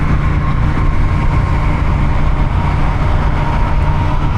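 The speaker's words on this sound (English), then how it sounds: "from the rider's seat, it sounds pretty good too. It's got a nice induction growl" A Honda Rebel 1100 DCT motorcycle engine heard from the rider's seat gives a loud, steady, low induction growl that holds constant without a break and without any voice.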